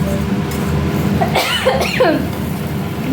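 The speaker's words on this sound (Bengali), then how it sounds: "যা যে কাশি চলে আসছে" A short burst of coughing close by, a couple of rough hacks in quick succession over a low background hum.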